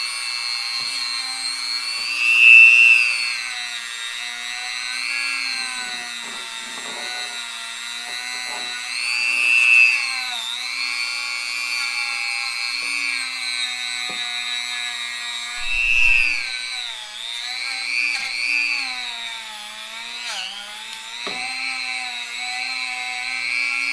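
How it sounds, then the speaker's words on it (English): A rotary power tool with an abrasive pad whines at a high, steady pitch while scrubbing a Suzuki RM 125 engine, its tone wavering and briefly surging under load, close and continuous for the whole stretch. "I switched to a rotary power tool with an abrasive pad to work in all the detailed areas"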